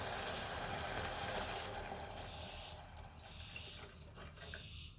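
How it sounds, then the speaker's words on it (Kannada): Water pours steadily into a pot of tamarind pulao rice, two glasses for each glass of rice, a continuous close splashing flow that tapers slightly toward the end, with no talking. "ಇದಕ್ಕೆ ನೀರು ಸೇರಿಸ್ಕೊಳ್ಳೋಣ. ನಾನು 1 ಗ್ಲಾಸ್ ಅಕ್ಕಿಗೆ 2 ಗ್ಲಾಸ್ ನೀರು ಹಾಕ್ತಿದ್ದೀನಿ."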